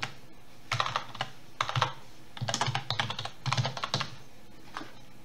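Typing on a computer keyboard while entering lowercase text into a web form, close, crisp clusters of quick keystrokes in several bursts separated by short pauses, with no voices.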